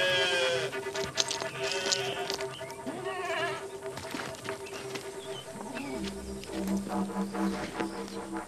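A flock of sheep bleats repeatedly, several overlapping wavering calls near and far, with faint voices mixed in.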